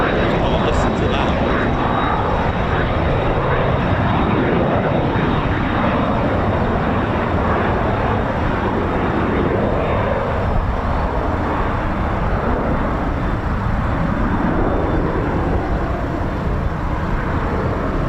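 Red Arrows jet aircraft roar overhead during training at RAF Waddington, a loud, continuous broadband engine rumble sustained throughout.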